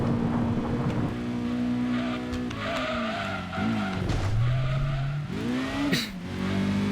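A race car in Gran Turismo 2 howls at speed, then its tires squeal and skid as the engine note wavers and drops during a crash before revving again, loud and continuous with no talk.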